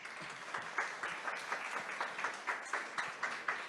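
Audience applause at an awards ceremony, fairly quiet and somewhat distant, a steady patter of many hands with regular rhythmic peaks running through the whole stretch.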